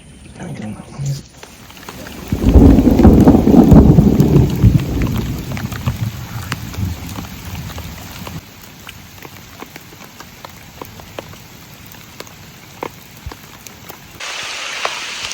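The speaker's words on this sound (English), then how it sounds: "now the rain is pouring down. It is coming down" Heavy rain pours down at a campsite with rumbling thunder, swelling loudly early on and then easing into a steady patter of drops, with brief talk near the start.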